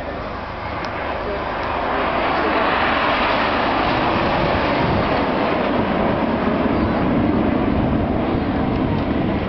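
Red Arrows jet aircraft flying the Apollo formation manoeuvre over the beaches at Bournemouth Air Festival, a loud, steady, broad roar that swells in the first seconds and holds throughout.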